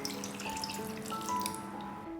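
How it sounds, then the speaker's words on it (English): Water runs steadily into a pan holding pieces of young green jackfruit, a continuous close pouring and trickling sound with faint tonal ringing, heard alone without voices. "Add enough water"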